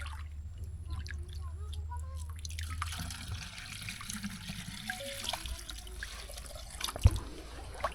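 Drinking water trickles and drips as it is scooped from a clear village well, close and fairly soft, with small splashes and one sharper splash near the end.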